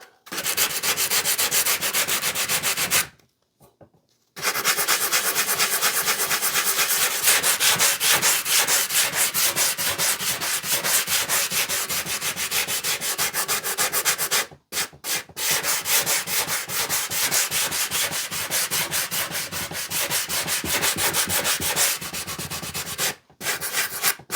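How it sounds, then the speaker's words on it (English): Close, steady rubbing of a sanding sponge on an antique axe goes on almost without a break, pausing briefly twice before the strokes carry on. "Sanding sponge."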